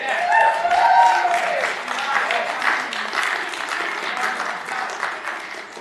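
Applause from the audience at a county commission meeting fills the room steadily, with a few voices mixed in and the clapping easing slightly toward the end.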